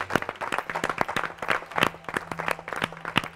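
A church congregation applauding the Lord, with dense rapid clapping from many hands that rises and falls at a fairly even level throughout, with no speech over it.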